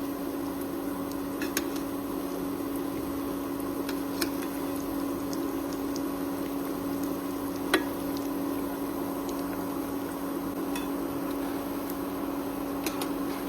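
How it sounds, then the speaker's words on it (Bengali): Semolina dahi vada fry in oil over a low flame, giving a steady, even sizzling hiss with a few faint pops and a constant background hum, with no talk. "খুব লো ফ্লেমে ভাজবো যাতে পুড়ে না যায়।"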